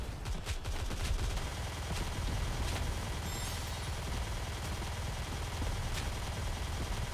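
Rapid, sustained gunfire from the anime shooter Nikke: Goddess of Victory rattles on for several seconds as dense, steady bursts, with a few sharper shots standing out and no talking.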